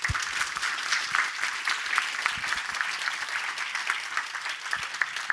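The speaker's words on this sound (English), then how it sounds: "If you want to applaud, you can do it now" Applause from a conference audience after a talk at the ETHWarsaw event, a steady dense patter of many hands clapping at moderate level for about five seconds with no voices over it.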